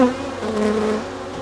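Honey bees buzz steadily and close at an open hive during a varroa mite treatment inspection, a dense continuous hum with no voices.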